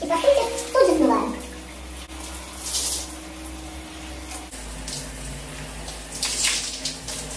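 Water runs steadily from a tap or shower while conditioner is rinsed out of hair, with a brief sound of hands handling wet hair near the start.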